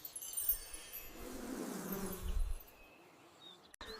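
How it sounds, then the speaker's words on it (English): A cartoon bee buzzes in a soft, faint drone that swells and fades over a few seconds, then cuts off abruptly near the end. "Out comes a fully grown bee, ready to buzz and explore the world."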